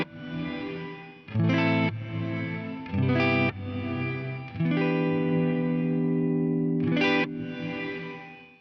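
A guitar plays through an Eventide Blackhole reverb pedal with the high filter lowered and the low end boosted. Sustained chords swell into long, dark, washy tails, and a few brighter stabs rise out of the lingering reverb.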